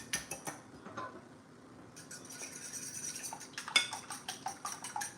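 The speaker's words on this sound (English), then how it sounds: "you wanna make sure you whisk it until you have no big long stringy egg whites" A whisk clinks rapidly against a bowl while egg yolks and whites are beaten together, a quick rhythmic tapping that grows busier toward the end and stays fairly quiet and close.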